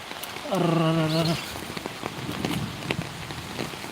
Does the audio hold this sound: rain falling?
yes